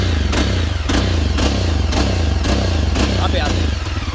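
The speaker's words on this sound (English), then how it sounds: "So that is the exhaust. Okay, it is got rev limiter in the neutral state." A 2022 Yezdi Adventure motorcycle in neutral revs repeatedly against its rev limiter, the loud close exhaust pulsing in a regular rhythm of about two bursts per second over a constant engine drone.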